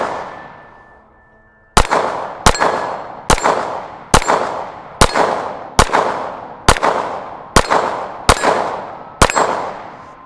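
Ten shots from a Springfield Armory Echelon pistol at a shooting range: sharp, loud reports at a steady pace a little under a second apart, each ringing out briefly, with no talking.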